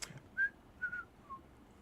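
A person whistles a short, faint tune of three separate notes, each held briefly, alone in a quiet room.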